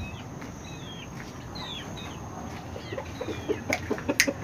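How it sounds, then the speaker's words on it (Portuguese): Roosters penned on a small farm cluck faintly at a distance over a low outdoor hum, with a few thin bird calls, then a cluster of short, louder clucks near the end. "começar dos galos que estão presos"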